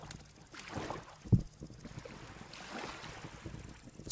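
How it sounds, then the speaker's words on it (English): Water sloshing in the Vintage Story video game, soft watery splashes and swishes repeating at a moderate level, with one sharper splash early on and a breezy wash underneath. "Is that sloshing vanilla sound effect, or is that just part of the mod that I downloaded for rivers"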